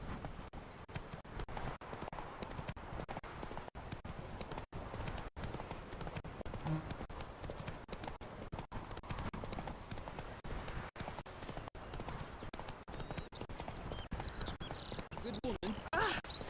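A horse's hooves clip-clop and gallop in The Witcher 3 video game, a steady rapid drumming that runs throughout, with a voice speaking over part of it.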